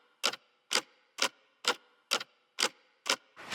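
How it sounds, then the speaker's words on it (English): A clock ticks in a steady, evenly spaced pulse as a rhythm layer in a bass house track, each crisp click sharp and close, seven or eight strikes with a denser burst at the end. "Clock ticks for rhythm."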